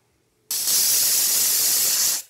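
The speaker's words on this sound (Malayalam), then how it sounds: "നമ്മുടെ കുക്കർ അഞ്ച് വിസിലൊക്കെ വന്നിട്ടുണ്ട്" A loud, steady hiss of steam bursts suddenly from a pressure cooker whistle cooking mutton soup, holding for nearly two seconds before cutting off.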